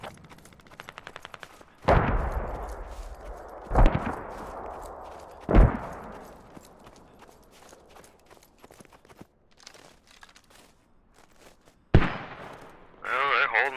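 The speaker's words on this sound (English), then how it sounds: "It sounds like they got mortars up here." Mortar fire in a multiplayer video game match: a few heavy booming impacts spaced seconds apart, plus a burst of rapid gunfire, with quieter footsteps and shuffling in between and players talking at times.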